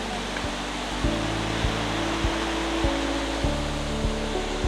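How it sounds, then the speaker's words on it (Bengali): A waterfall in Sikkim roars as a steady, dense wash of water noise, with faint low thumps recurring about every half second under the constant rush. "এই দেখুন ফলসটা নেমে যাচ্ছে এদিক দিয়ে"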